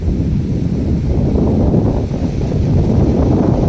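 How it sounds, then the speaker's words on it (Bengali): Strong stormy wind gusts through swaying village trees and buffets the microphone, giving a loud, continuous low roar with no pauses. "শুধু আওয়াজটা শোনো, হাওয়া যে হিসেবে ঝিরিঝিরি হাওয়া বইছে"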